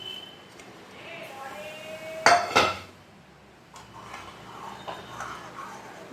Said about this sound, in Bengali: এবারে আমি যে ছানাটা ভেজেছি ঘি দিয়ে, সেই ছানাটা আমি দিয়ে দিচ্ছি এর মধ্যে।